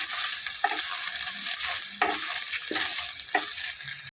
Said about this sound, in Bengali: এবারে কিছুক্ষণ নেড়ে চেড়ে চালটা